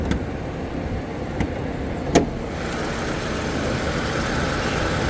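A 2003 Buick Century with about 110,000 miles on it hums steadily from inside the cabin, with a few faint clicks early on and a smooth, even road and engine noise that grows slightly fuller toward the end.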